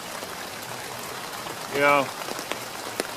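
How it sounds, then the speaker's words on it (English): Steady rain falls outdoors in wet Portland autumn weather, a constant even patter throughout, with a brief spoken word partway through. "Portland is known for its rain, so just wanted to show you that it does happen."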